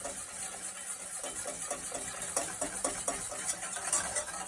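A whisk beating a milk and cornstarch mixture for pastry cream in a bowl, rapid rhythmic scraping strokes that stay close and steady, with no talking.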